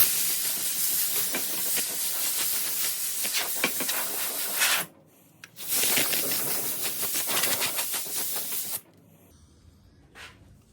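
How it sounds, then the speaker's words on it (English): Compressed air blasts across a freshly sanded antique wooden school desk, blowing off dust in two long, loud hissing bursts separated by a brief pause, then a fainter short puff at the end. "now blow it off with some compressed air"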